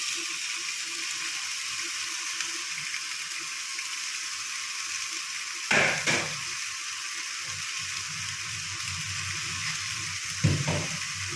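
Pasta fries in a pan with a steady, close sizzle, broken by two sharp scraping strokes of a spoon stirring against the pan.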